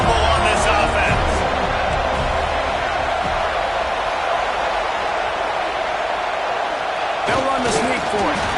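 A football stadium crowd roaring loudly on fourth down, a steady dense wall of cheering and noise from a large crowd, with a louder burst near the end and commentary voices mixed in.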